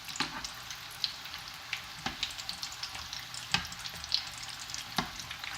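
Small curry samosas deep-fry in a wok of oil with a steady close-up sizzle, punctuated by sharp pops and crackles, and no talking.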